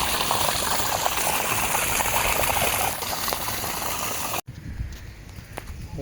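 Rainwater gushes from three pipes into a deep storage pit, a loud continuous rushing flow that cuts off sharply near the end, leaving quieter dripping.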